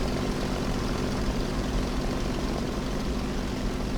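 An IL-2 attack aircraft's propeller engine drones in War Thunder, a loud, constant, unbroken roar that holds steady the whole time with no talking.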